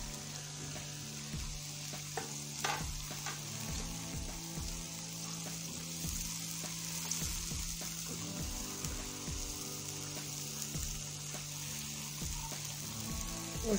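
Green chillies and tomato paste fry in a pan for a chicken karahi, giving a steady bubbling sizzle with frequent scraping strokes of a stirring utensil, close by and with no talk.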